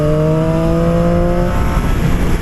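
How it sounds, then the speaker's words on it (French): Triumph Street Triple 765 RS motorcycle under hard braking, engine note falling steadily as it slows, loud and close with wind rush; no talk. "Regardez, je vais faire un petit freinage assez poussé."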